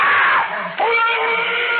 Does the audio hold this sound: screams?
yes